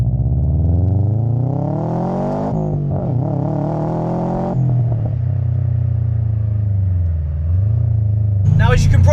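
A modified turbocharged 2017 Subaru WRX STI engine revs up and down repeatedly, deep and throaty, rising to sharp high-rpm pulls with a rough, loud exhaust note up close.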